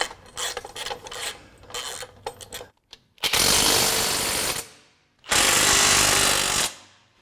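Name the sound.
power tool tightening front suspension bolts, Ford F-100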